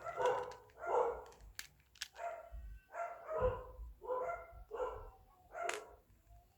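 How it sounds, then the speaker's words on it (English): Dogs bark repeatedly and fairly close, a steady run of loud barks roughly once a second with short gaps between them. "Oh my God, my dogs are barking."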